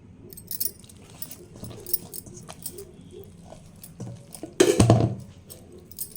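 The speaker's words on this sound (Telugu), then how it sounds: "బాగా కలిపేసుకోవాలి పిండి మనం ఈ విధంగా కలుపుకోవాలి ఇలా కొడుతూ" Mysore bonda batter mixed and beaten in a bowl, giving soft, irregular clinks and slaps with one louder clattering burst near the end, close up and fairly quiet with no talking.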